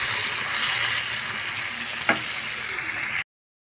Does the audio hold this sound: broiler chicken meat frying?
yes